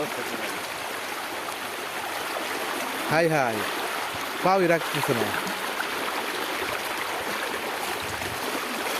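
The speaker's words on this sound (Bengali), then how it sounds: "এদিকে যত পানি আছে এই দিক দিয়ে আসতেছে, রাস্তাঘাট বইরে গেছে" Floodwater from rain rushes steadily over a road in a continuous flowing wash, while a couple of voices briefly call out partway through.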